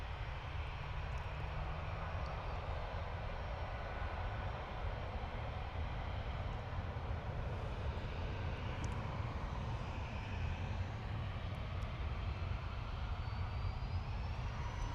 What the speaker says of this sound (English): Right, Ryanair's on the roll.